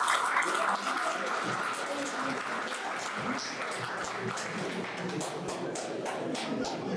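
Dense applause from a large crowd at a Republic Day celebration at a defence academy, a steady broad wash of clapping through the whole stretch with a few louder claps standing out.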